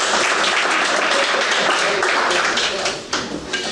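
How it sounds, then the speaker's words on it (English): A crowd at a community meeting applauds, dense continuous clapping that holds steady, then thins out and tapers off toward the end. "Can we give a warm round of applause for Michelle and the others?"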